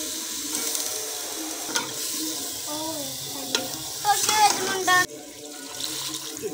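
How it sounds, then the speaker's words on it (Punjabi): Potato chips being stirred in spice masala in a pan, giving soft scraping stirs over a light sizzle, with scattered clinks and a splash of liquid, close by and moderately quiet. "ਆਲੂ ਜਿਹੜੇ ਨੇ ਅਸੀਂ ਬਿਲਕੁਲ ਮਿਕਸ ਕਰ ਦਿੱਤੇ ਨੇ ਮਸਾਲੇ ਦੇ ਵਿੱਚ, ਚਿਪਸ ਤਰ੍ਹਾਂ ਅਸੀਂ ਆਲੂ ਕੱਟ ਲਏ ਨੇ"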